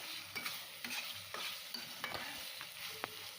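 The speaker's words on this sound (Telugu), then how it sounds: "కింద అడుగంటకుండా మనము దీన్ని అటు ఇటుగా కలిపేసుకుంటూ ఉండాలి." A spoon scrapes and stirs food around a pan to keep it from sticking, giving soft repeated scraping strokes over a low sizzle, steady and close, with no talking.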